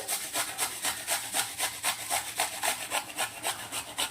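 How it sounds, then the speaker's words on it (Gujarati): An apple is grated by hand into a metal plate, producing a steady run of quick, rasping strokes about four per second, close and even, with no one talking. "થાળીના અંદર આપણે એપલને આવી રીતે ખમણી લેવાનું છે"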